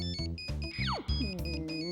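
A melodic electronic ringtone plays in short repeating tonal bursts with a gliding chirp in the middle, loud and close, with no talking.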